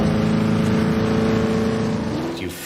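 A loud car engine revs in a constant, rowdy roar that holds strong throughout, then eases off slightly near the end, with no voices.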